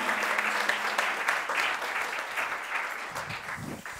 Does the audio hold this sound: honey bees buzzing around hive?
no